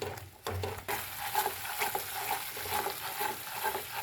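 Curd (dahi) cooks over medium gas in a pan for sweet dahi halwa, giving a steady bright sizzle with stirring sounds, the frying noise swelling after a brief quieter start.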